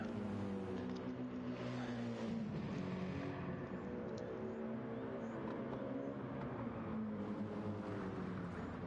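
A BMW GT3 race car at Suzuka in a racing video game makes a continuous engine drone with shifting pitch, steady and moderately loud throughout with no clear break for the run into the dirt.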